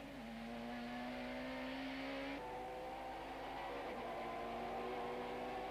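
Super touring race car engines whine and rev, pitch stepping as the cars shift down through gears, heard from a distance against a steady roar at a racing championship in East London, South Africa.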